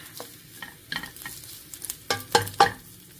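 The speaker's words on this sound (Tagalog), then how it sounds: "Lutuin lang natin sa butter." Beef bulgogi cooking in butter in a pan: a soft sizzle under several sharp stirring scrapes and clacks of a utensil that grow louder toward the end, close and without voices.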